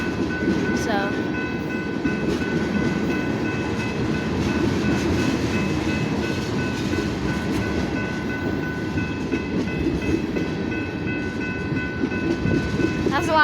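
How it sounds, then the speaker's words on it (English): BNSF mixed freight train led by locomotives 5985, 3960 and 7180 rolling past at close range, a steady loud rumble of wheels and cars with a short horn sound near the start and end. "I want y'all to see the whole train."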